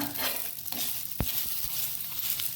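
A methi seed and ridge gourd dosa is turned on a hot pan, a soft steady sizzle with a single sharp scrape or tap of the spatula partway through.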